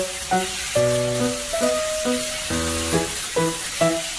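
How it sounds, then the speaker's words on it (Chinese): Egg tofu stir-fried in a wok with chili powder, salt, pepper and tomato sweet chili sauce gives a steady sizzling hiss, partly masked by prominent melodic background music throughout. "一勺盐，一勺胡椒粉，再加三勺番茄甜辣酱，翻炒均匀，炒至食材入味"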